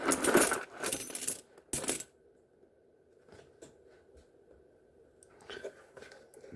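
World coins clatter and jingle in a few bursts as they spill out of a box, then quieter small clinks and shuffling follow.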